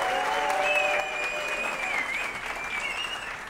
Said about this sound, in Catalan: Un aplaudiment per ells.